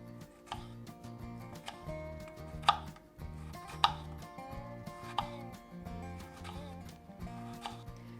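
Knife thinly slicing peeled green tomatoes for a pie filling, a few soft cutting taps scattered under steady background music.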